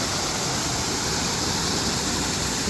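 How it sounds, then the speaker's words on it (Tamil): Water rushes into a canal lock on the Wey and Godalming Navigation near the Thames, making a loud, unbroken roar with no breaks or voices. "இப்போ தண்ணியை ஃபில் பண்ணுறதுக்கு ஓப்பன் பண்ணி வச்சுருக்கோம்."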